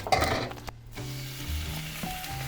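Hash browns sizzling in a pan, a steady close crackle with a sharp scrape near the start, no talking.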